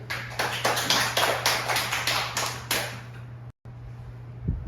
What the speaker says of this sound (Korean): 박수 한번 올려드립니다.